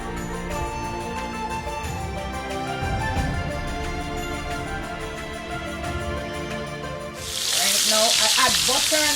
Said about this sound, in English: So I'm dropping the scallop first, because they take a little longer than the shrimp to cook.